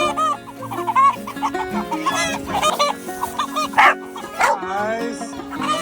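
Chickens clucking with a rooster among them in a coop, several overlapping bird calls close by, with a dog barking now and then and a person talking over the noise.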